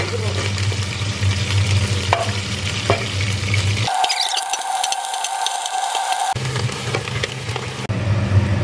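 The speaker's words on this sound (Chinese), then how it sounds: "油热我们加入刚才那个香料，先给它炒香" Spices and scallion fry in hot oil inside a pressure cooker, a close, steady sizzle with stirring rattles; midway the sizzle briefly drops to a thinner hiss before the full frying noise returns.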